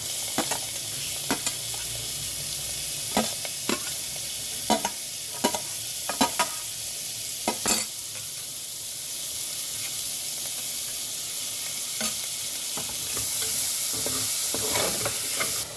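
Onions sizzle steadily in hot oil in a pan for ladyfinger curry, with a spoon scraping and stirring in repeated sharp strokes over a constant frying hiss, close and fairly loud with no talk.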